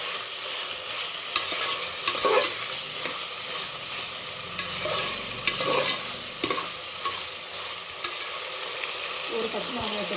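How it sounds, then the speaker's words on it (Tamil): Mixed vegetables and green peas fry in a pan for vegetable biryani, a constant bright sizzle broken by repeated scraping strokes of a stirring spoon, close and fairly loud with no voices. "பச்சை பட்டாணி இதெல்லாம் போட்டு நல்லா கிண்டி விடுங்க"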